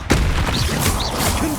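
A Confringo fire spell from Hogwarts Legacy goes off in a short, muffled boom, with fiery crackle and swishes on top, heard close amid game ambience.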